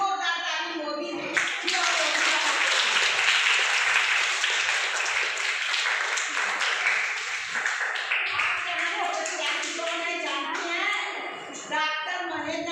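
An audience at a women's gathering over tea in Varanasi bursts into loud applause, many hands clapping together for several seconds before it thins out under a voice speaking into a microphone.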